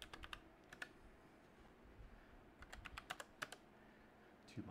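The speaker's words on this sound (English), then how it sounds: "Logitech MX Mechanical. Very professional looking keyboard. I have the tactile, but still pretty silent keys." Keystrokes on a Logitech MX Mechanical keyboard with tactile, fairly quiet switches, heard as scattered clusters of soft clicks in bursts, close and alone with no talk.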